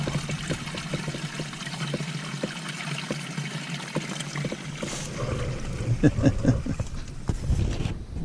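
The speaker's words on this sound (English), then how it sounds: "Underground waterfall." An underground waterfall along a trail in southern Illinois rushes and splashes steadily throughout, a continuous cascading wash with a few brief knocks and clatters near the end.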